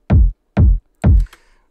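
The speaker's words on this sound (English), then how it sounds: "It's the dry kick signal coming in." Dry, unprocessed techno kick drum playing in Ableton, three punchy low thumps spaced about half a second apart, the last with a short tail of faint extra noise, loud and alone.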